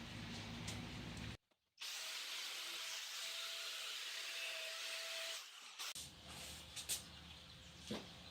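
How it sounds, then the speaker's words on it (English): An angle grinder fitted with a cutting wheel cuts through a metal flag pole, a loud, sustained high whine that stops briefly, resumes for several seconds, then winds down to scattered clinks and handling noise. "my grinder already had the cutting wheel on it. I can make it work with that."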